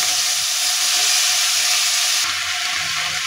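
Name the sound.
chopped spring onion vegetables added to fried spice paste, sizzling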